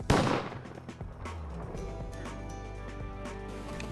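A shotgun blast rings out loudly at the start, fired at a mallard during a duck hunt over a Manitoba wheat field, followed by a lingering outdoor rumble and low wind noise.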